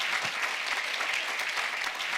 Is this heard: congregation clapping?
yes